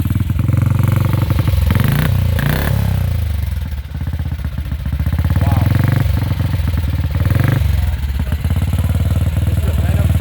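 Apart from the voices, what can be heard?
Venom motorcycle engine running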